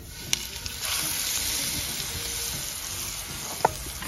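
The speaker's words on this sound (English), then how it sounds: "Now what I'm gonna do is I'm gonna set this steak on" A5 Japanese wagyu steak laid into an oiled cast iron skillet, producing a steady, fairly quiet broad sizzle with a couple of sharp clicks near the start and end.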